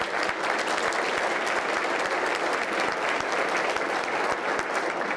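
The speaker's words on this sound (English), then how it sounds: "let's give them a round of applause" Audience applause at the 2012 Torrance, California State of the City address, a dense, steady wash of clapping from a large crowd that holds at full strength for the whole stretch with no voices over it.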